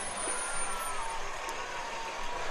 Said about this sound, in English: There's the old-time fire truck.